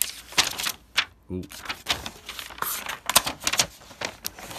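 Fancy paper packing from a Grand Seiko watch box is handled and lifted, giving crisp rustles and crinkles in short bursts, with a brief voiced exclamation among them.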